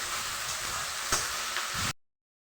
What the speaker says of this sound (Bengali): পেঁয়াজটা হালকা লাল লাল করে ভেজে নিই